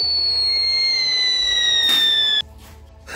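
A cartoon firework launches with a long descending whistle, then a loud burst near the end, followed by a quiet fizzle.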